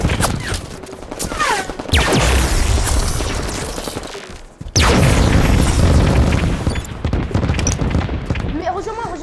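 Gunfire and booming explosions in Halo 5 during a hectic multiplayer fight: heavy, loud bursts and blasts with a brief drop near the middle, while excited voices talk over the action.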